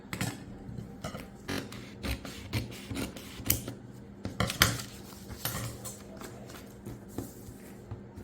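Cutting out a round neckline pattern drafted with a French curve produces a close, steady series of crisp snips and rustles, repeating roughly every half second, with no talk.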